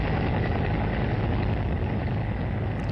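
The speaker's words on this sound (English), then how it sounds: "Here's a helicopter." A helicopter flies near a runway with a steady, loud, continuous rotor and engine drone that stays close and even throughout, with no talking.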